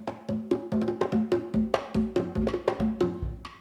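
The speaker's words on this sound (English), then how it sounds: "And then the 3 together sound like this." Three plena panderos, bass, mid-range and small quinto hand drums, played together in an interlocking rhythm, with steady repeated strokes layered into a dense, close, lively groove.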